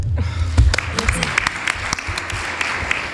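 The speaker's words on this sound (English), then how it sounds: "On peut l'applaudir." Applause from a conference audience at the Blue Africa Summit, scattered claps rising over a low room rumble with some voices and murmuring mixed in.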